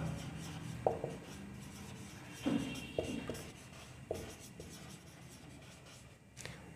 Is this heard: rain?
no